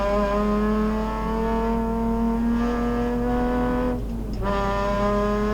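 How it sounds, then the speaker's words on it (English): A Nissan VQ35 race car engine with big exhaust pipes roars at full throttle, climbing steadily in pitch, then dips briefly for a quick gearshift before rising again, loud and continuous. "Is there any more melodious sound than that of a big-piped Nissan VQ at flat knacker?"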